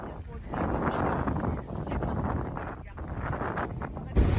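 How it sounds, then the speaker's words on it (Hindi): Strong wind buffets the microphone outdoors in Port Blair, a dense rumbling roar that carries steadily throughout, with a voice talking intermittently beneath it. "इतनी हवा चलती है ना, सारे बाल उलझ जाते हैं।"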